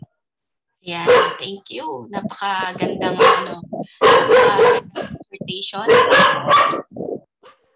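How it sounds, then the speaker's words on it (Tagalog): A family dog barks noisily at home in the background during a prayer meeting call, its barks mixed in with continuous close talk. "Baka makasalita, maingay ang aso namin."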